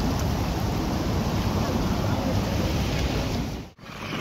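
Sea waves make a steady, loud roar of surf, mixed with heavy wind buffeting the microphone, then break off abruptly near the end.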